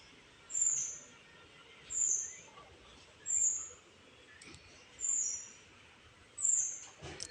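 Five short, high-pitched calls of crows and sparrows repeat at steady intervals over a quiet background, fairly distinct and moderately close.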